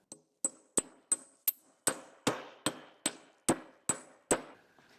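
Roll pin being hammered into the lift arm assembly of an Allis Chalmers D17 tractor: about a dozen sharp, ringing metal-on-metal strikes at a steady rhythm, close and loud, each decaying quickly, with no talk.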